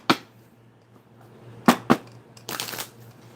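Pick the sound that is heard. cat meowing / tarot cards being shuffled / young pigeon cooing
tarot cards being shuffled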